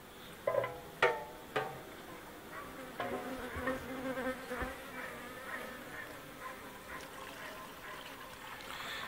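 Dense buzzing of honeybees swarming close by over syrup during autumn feeding, continuous and layered, with a few sharp knocks near the start.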